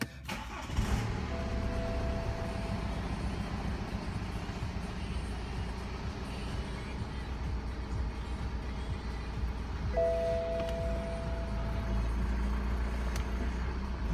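A BMW F10 car engine starts after a brief crank and then idles with a steady low rumble, close and continuous for many seconds without talk.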